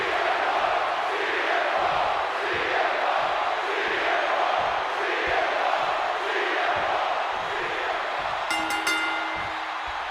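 In the WWE 2K26 wrestling video game, an arena crowd cheers and chants continuously in a dense, loud roar, with a brief metallic chime near the end.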